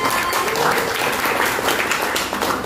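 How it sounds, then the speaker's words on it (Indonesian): An audience applauds at an Indonesian televised political talk event, with steady dense clapping filling the room throughout. "Tepuk tangan dulu dong, Ibu Lia."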